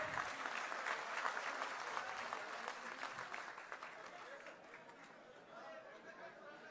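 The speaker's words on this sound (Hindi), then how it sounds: "तालियां रुकनी नहीं चाहिए।" A rally crowd at a BJP municipal mayoral campaign event in Ambala applauds loudly and steadily. The clapping slowly fades toward the end, with crowd chatter mixed in.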